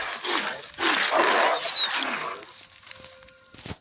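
A dog barks several times in quick bursts, fairly close, with a few softer sounds and scuffles trailing off afterward.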